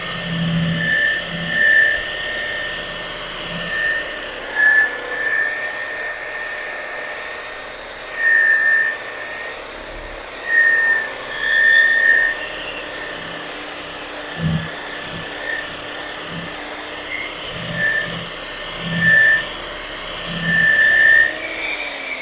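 A power buffer polishes freshly sprayed metal flake gel coat with a steady high whine, swelling and easing in repeated passes as the pad is dragged across the surface, loud and close with no voices.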